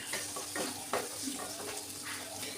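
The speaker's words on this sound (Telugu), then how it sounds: "ఇవి మంచి ఉడకనేయాలి టమాటాలని నూనెలో" Small tomato pieces cooking in oil in a pan for Telugu fish curry, giving a steady close sizzle and bubbling with a few soft stirring scrapes.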